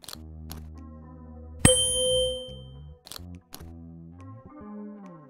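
A metallic instrument struck in the video game Willy Morgan & The Curse of Bone Town, a bright ringing ding that sustains briefly over sustained background music, followed by softer mechanical clunks.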